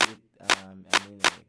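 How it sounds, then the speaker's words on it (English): A conga drum sample from a beat being built, four pitched hits with ringing low tones, evenly spaced and close, with nothing else playing. "Then we get into this conga."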